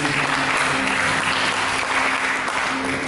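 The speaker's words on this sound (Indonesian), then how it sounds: "Mari kita berikan tepuk tangan bagi" Church congregation applauding during a service, a steady, even wash of many hands clapping at moderate volume throughout, with no speech over it.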